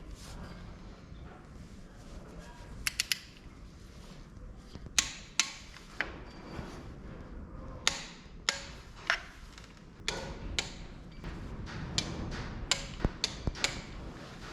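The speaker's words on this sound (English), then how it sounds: "I'm just going to get a torque wrench and lock that all up." A wrench works on the timing belt bolts of a Land Rover 200tdi engine. It gives a series of sharp metallic clicks and ticks at irregular intervals, close by, over a low background rumble, with no talking.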